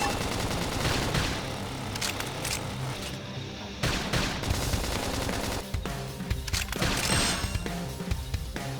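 Rapid gunfire in the Xenoblade Chronicles X video game bursts repeatedly for several seconds amid battle effects, loud and dense, with brief pauses between volleys and faint character voices.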